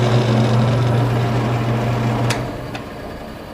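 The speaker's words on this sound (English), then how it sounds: "The power for our vertical bandsaw comes from right here, so you very simply hit start to start." A vertical bandsaw motor hums steadily with a low tonal drone, then winds down near the end, with a couple of brief clicks, heard close and fairly loud in a workshop.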